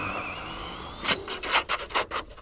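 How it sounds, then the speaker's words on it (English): A no-prep drag car launching on hot tires, the rear tires wrinkling as they hook up: a rapid series of loud rasping, scrubbing bursts following a steady high whine, close by and with no talk. "when it hooks up, you can hear that tire wrinkle"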